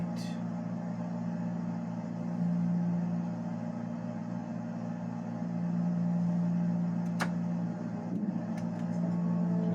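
A Carenado Piper Arrow III single-engine piston aircraft in a flight simulator drones steadily at takeoff power, a constant mid-pitched engine hum with a brief click partway through.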